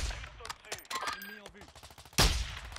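Automatic gunfire in the Warzone video game, with quick rapid bursts of shots followed by one loud, heavy blast near the end, and voices heard faintly underneath.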